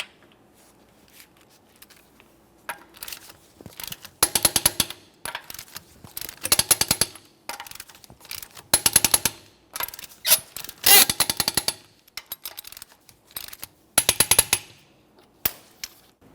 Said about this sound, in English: We're going to be torquing these in a crisscross manner to that 90 foot-pounds.